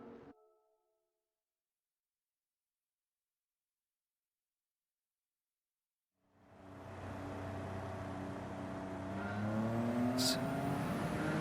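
A GTO Twin Turbo race car in a Le Mans racing video game starts a flying lap; after several seconds of silence its engine drone rises and holds steady with a gradual climb in pitch.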